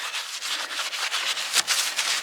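A brush scrubs greasy parts soaked in Super Clean degreaser with steady, loud, close back-and-forth rasping strokes and no voices.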